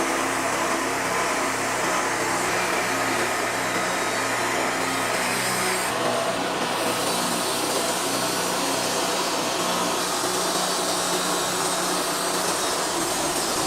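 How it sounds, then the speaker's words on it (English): A large sawmill blade whirs steadily as it cuts through a log in a workshop, a loud, continuous broadband machine roar that holds throughout with no talk. "A steady, high-pitched whirring sound emerges as the blade meets the wood"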